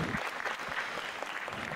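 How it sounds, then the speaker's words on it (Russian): Dense, continuous applause comes from a conference hall crowd, many hands clapping evenly and fairly loudly throughout with no break. "Нормально, вы же себе хлопаете. Хлопайте,"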